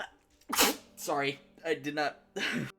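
A sharp sneeze bursts out close to the microphone during an online game session, surrounded by several people talking.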